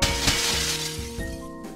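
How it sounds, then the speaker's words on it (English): Glass shatters and breaks in the Gunpoint video game, a loud crash with clinking shards spread over under two seconds, heard alone with no talk over it. "Break the glass"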